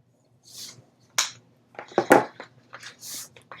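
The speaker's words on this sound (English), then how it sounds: "And burnish it again." A folded paper hinge for a craft album is burnished by hand, giving a few close, dry scraping and rubbing strokes with short pauses between them and no talking.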